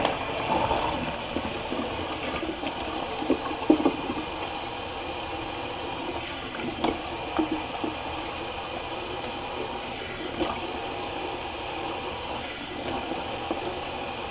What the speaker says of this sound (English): So I'll just do a little rinse, a cold water rinse actually.